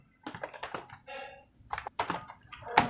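Fingers type on a computer keyboard while entering data into an Excel spreadsheet, producing short clusters of crisp key clicks close to the microphone, separated by brief pauses, with no voice heard.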